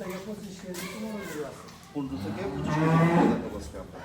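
Several cows low on a dairy farm of about fifty milking cows, with a long, loud moo swelling in the second half, while people talk throughout.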